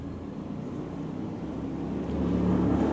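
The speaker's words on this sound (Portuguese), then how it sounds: "Desculpem o barulho dessa moto aí." A motorcycle engine drones steadily and grows louder toward the end as it draws closer, with no talking.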